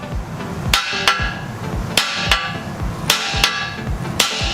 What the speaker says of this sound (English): you need to get another big hammer on the other side to balance the shock